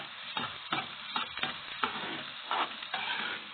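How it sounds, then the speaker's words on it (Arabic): Onion sautéing in butter in a pan, a close sizzle with repeated stirring scrapes and clatters coming in uneven bursts, moderately loud, no voices. "البصل هاخدها تشويحه اهي"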